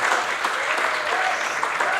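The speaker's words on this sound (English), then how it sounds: "Why aren't you clapping more enthusiastically?" Audience clapping at a stand-up comedy show in Australia, a sustained, moderately loud patter of many hands from the room with no voice over it.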